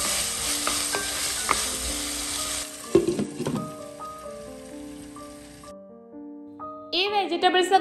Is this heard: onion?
yes